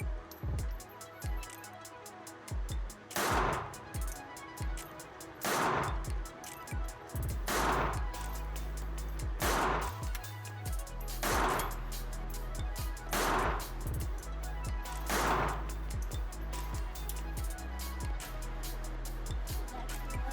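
Gunshots at a shooting range, roughly seven loud, sharp reports spaced about two seconds apart over a steady rumbling background.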